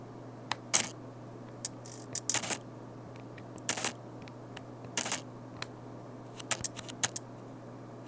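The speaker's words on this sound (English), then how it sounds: "Adding to the loud autofocus motor, it's reasonably slow" Autofocus motor of an old lens mounted on a Fujifilm camera, giving a string of short whirring and clicking bursts, some brief and some longer, close up over a steady low hum, with no voices.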